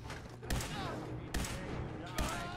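Three sharp gunshots from a Fallout video game ring out at an even spacing, each a hard crack with a brief tail, over a steady game soundscape while someone talks.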